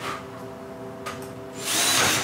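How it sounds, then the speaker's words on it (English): A power drill whirs steadily at close range, its motor holding a level tone and then swelling to a louder, rougher grind as it bites into the material near the end. "How else can we drill this?"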